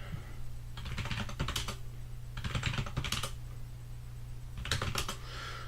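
Bursts of rapid keystrokes on a computer keyboard, three clusters separated by pauses, close and clear over a steady low electrical hum.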